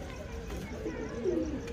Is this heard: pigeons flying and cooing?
yes